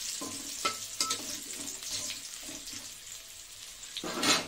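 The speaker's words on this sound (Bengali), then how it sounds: "এই যে আমার পেঁয়াজটা অনেকটাই ভাজা হয়ে গেছে" Onion frying in a pan, a crackling sizzle with a few sharp stirring scrapes and clinks, moderately close, with a brief louder burst of hissing near the end.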